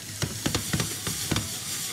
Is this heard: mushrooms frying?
yes